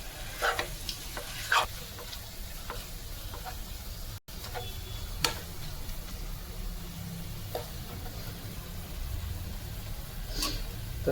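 Spicy mutton sukha sizzles in a pan topped with fresh coriander while a spoon stirs it, giving soft, steady frying crackle broken by occasional scrapes and clinks, fairly quiet and with no talking.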